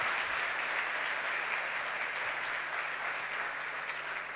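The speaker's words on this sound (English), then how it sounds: "A big round of applause for Hamza." An audience at a startup pitch event applauds a presenter with steady, sustained clapping at moderate volume, evenly spread throughout.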